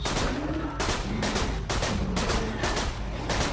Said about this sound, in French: On va tester l'arme.